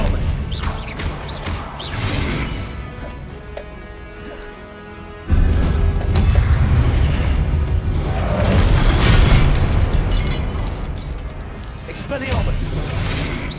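Spell impact from a Hogwarts Legacy duel, Expelliarmus cast repeatedly: a loud booming blast hits about halfway through and is followed by sustained rumbling combat noise with whooshes, under game music and voices.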